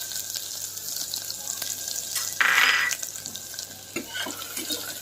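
Crushed garlic and coconut roasting in a pressure cooker for a drumstick curry, giving a steady frying sizzle throughout, with a brighter, louder burst of hissing midway.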